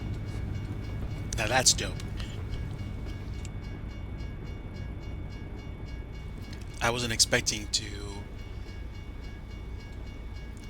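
A train passes by in American Truck Simulator during winter driving, two loud rushing swells of rail noise a few seconds apart over a steady engine drone, with someone talking throughout.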